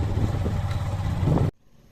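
A motorcycle rumbles through a park with a steady, close engine drone, then cuts off abruptly partway through, leaving near silence.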